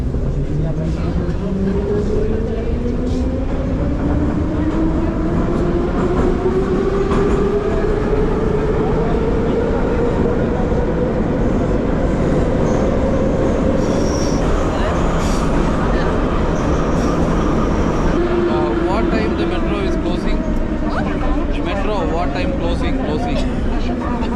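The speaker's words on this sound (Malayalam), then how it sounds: "ഇത് അത്യാവശ്യം നല്ല തിരക്കുള്ള മെട്രോ ആണേ" A crowded metro train in Tashkent runs with a loud, continuous rumble and a long rising and falling whine of wheels and motors, while passengers' voices murmur faintly underneath.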